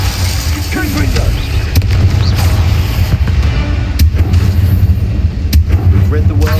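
Blasting-spell explosions in Hogwarts Legacy, a repeated series of loud booms and cracks fired in quick succession over a heavy low rumble, fighting a spider.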